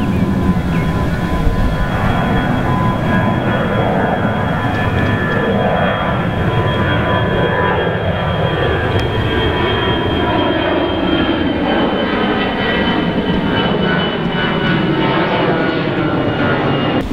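A fixed-wing airplane passes over near Ferihegy airport, a steady loud broadband engine roar that holds for the whole stretch, with the hiss thinning slightly toward the end and no talk.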